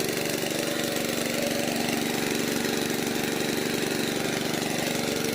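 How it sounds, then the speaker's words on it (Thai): A loud water pump engine drones steadily without pause while pumping out a pond, a rough mechanical hum with a buzzing rattle, close by and constant throughout. "เสียงเครื่องดังครับ"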